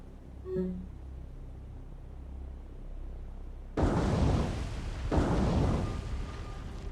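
Torpedo hits explode against a Queen Elizabeth-class battleship in the naval game War on the Sea: two heavy, rumbling blasts about a second apart after a quieter stretch, loud and sustained with a long roaring tail.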